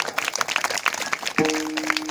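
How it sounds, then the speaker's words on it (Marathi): Short burst of audience clapping at a village Bhagavat katha religious discourse, a scattered patter of hands close by with a brief sustained tone cutting in partway through. "एकदा जोरदार टाळी वाजवा"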